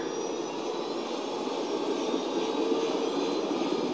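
A helicopter in the video game Ghost Recon Wildlands, a steady, fairly faint engine and rotor drone that holds without a break.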